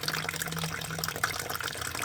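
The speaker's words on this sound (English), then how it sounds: "So we'll let this finish draining" Coolant water draining steadily from the cooling system of a Mazda MX3 being readied for track use, a continuous splashing trickle heard nearby with no voices.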